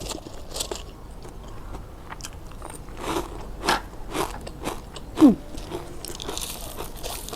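Crisp bites and crunches into a crispy fried herb snack, several sharp close-up crunches spaced irregularly, the loudest near the end, alone with no talk.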